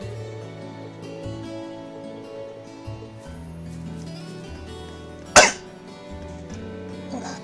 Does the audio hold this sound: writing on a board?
no